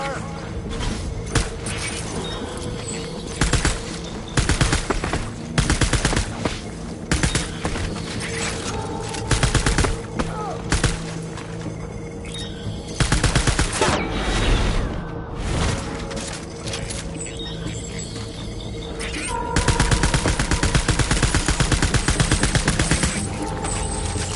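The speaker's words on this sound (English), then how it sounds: "Taking fire." Gunfire in Death Stranding comes as heavy repeated bursts of rapid shots and clattering impacts, loud and chaotic over a long stretch, with brief lulls between volleys and voices now and then.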